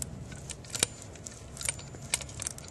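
Scissors work through braided hose, giving a series of small metallic snips and crunches scattered unevenly over a quiet background, with a couple of sharper clicks standing out.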